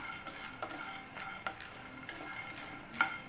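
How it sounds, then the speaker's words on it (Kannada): Onion and garlic fry quietly in a pan for a tomato-onion chutney, a faint sizzle broken by a series of light spoon scrapes and taps against the pan, close but soft. "ಸ್ವಲ್ಪ ಈರುಳ್ಳಿ ಬೆಳ್ಳುಳ್ಳಿ ಎಲ್ಲ ಫ್ರೈ ಮಾಡ್ಕೊಳ್ಳೋಣ"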